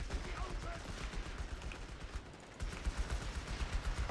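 A Company of Heroes 3 machine gun rattles in dense, continuous fire, with other gunfire and a voice faintly mixed into the battle noise.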